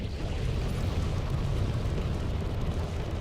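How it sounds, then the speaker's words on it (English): A dense, steady roaring rumble of spaceship thrusters from the Panther Clipper in Elite Dangerous, continuous and even throughout with no voices. "Yeah, the engines sound weird."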